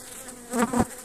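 A short burst of agitated honeybees buzzing at the hive in the evening swells close by for a moment, with a couple of louder droning passes against a quiet hum.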